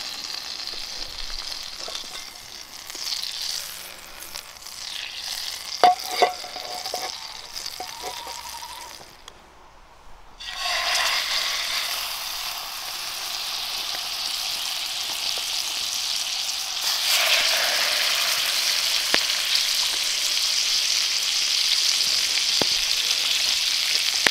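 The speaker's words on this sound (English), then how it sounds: "I'm just going to put a little bit of olive oil in as well. That stops the butter burning" Butter and olive oil fry in a pan on a camp stove, first a light crackle with small clinks, then a brief pause followed by a loud, steady sizzle that grows stronger toward the end.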